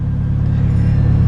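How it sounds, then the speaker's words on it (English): A Mitsubishi Evo 8 running on freshly added ethanol idles steadily at close range, a loud, even low rumble with a regular pulsing throb and no talk over it. "now we'll just let it idle for a little bit to make sure we get the highest content we can"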